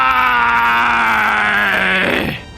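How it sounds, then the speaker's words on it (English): In Star Fox 64, an enemy boss gives a long, loud Japanese-voiced death scream, a strained sustained cry that holds steady and then drops and fades away at the end. "His death scream sounds similar to the English one, where it has more of the arg sound to it"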